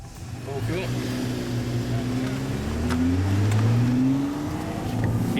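A Nissan GT-R V-Spec and a Lamborghini Gallardo Balboni accelerate in a race, engines rising steadily in pitch through the gears with a loud, continuous roar; a voice speaks over it.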